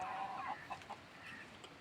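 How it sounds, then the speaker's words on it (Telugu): Newly bought baby chicks cheep softly while being fed ragi grain, their faint, scattered high peeps coming from close by against a quiet hiss. "ఈ కొత్త కోడి పిల్లలు ఇప్పుడే రాగులు"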